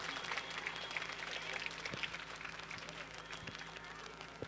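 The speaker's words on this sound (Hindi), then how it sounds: "पूरा पंडाल जोरदार तालियों से इन बच्चियों का प्रोत्साहन" A seated crowd in a school pandal applauds steadily after a girls' welcome song at a talent search exam result seminar, with dense clapping sustained throughout and a faint low hum beneath.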